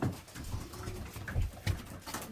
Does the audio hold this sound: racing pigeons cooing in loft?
yes